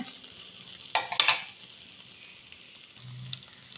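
Potato and capsicum being stirred as they fry in a pan: a quick cluster of scraping spoon strokes, then a low steady sizzle with faint stirring near the end.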